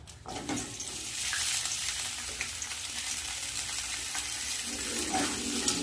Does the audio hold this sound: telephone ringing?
no